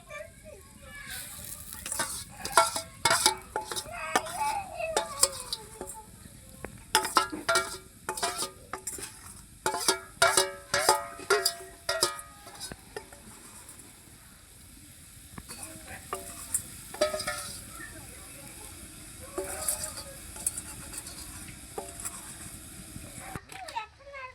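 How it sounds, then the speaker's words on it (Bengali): Eggs stirred into a frying spiced masala for a country-chicken egg bhuna, with intermittent sizzling and spoon scrapes against the pan, while children's voices chatter faintly in the background. "ডিমগুলো মশলা মশলায় দিয়ে দিচ্ছে"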